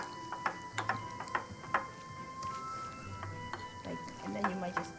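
A utensil stirs sauce through vegetables on a bed of rice in a bibimbap bowl, giving soft, irregular scraping and clicking strokes that are quiet and close, with faint background voices.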